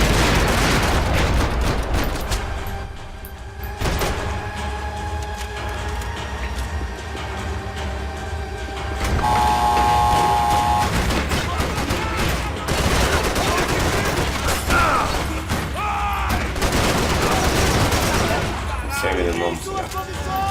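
Repeated bursts of gunfire from the shooter game Max Payne 3, with clustered shots and rattling volleys spread through a busy, loud combat mix while someone talks intermittently over it.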